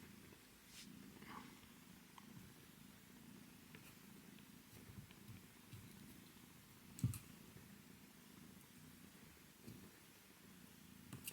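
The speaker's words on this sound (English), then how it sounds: "She's purring so loudly." A cat purrs close up in a quiet room, a soft, continuous low rumble with faint clicks and one sharp tap partway through.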